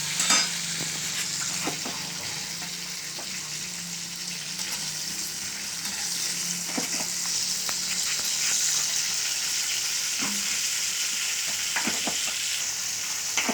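Slit green chillies coated in salt fry in hot oil, giving a soft continuous sizzle close by, broken by occasional spoon taps and small pops.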